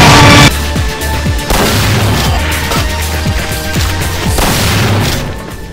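Explosions and rapid gunfire from the first-person shooter Doom 3, a loud initial blast followed by a steady run of sharp, repeated shots and booms over game ambience, without talk.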